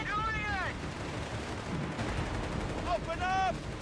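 Heavy artillery booms from a Flak 88 gun firing in Company of Heroes 3, a dense, loud battlefield roar with whistling shells overhead at the start and again near the end.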